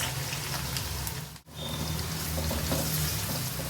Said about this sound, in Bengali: এটা একটু বাদামি করে ভেজে নেব